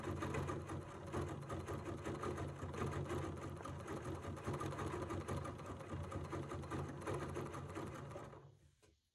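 A sewing machine stitches couched fibers onto quilted fabric in a long, steady, fast-running mechanical whir with a rapid needle rhythm, fairly quiet and close, fading out at the very end with no speech.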